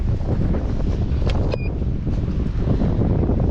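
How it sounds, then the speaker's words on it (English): Wind buffeting the microphone in an open farm paddock, a steady close roar of gusts with no voices. "You can see it's starting to get windy up here."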